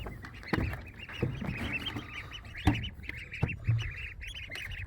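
Ducks tipped out of a bucket near a veggie garden quack and chatter in a close, busy jumble of calls, with soft thumps and rustling underneath and no talking.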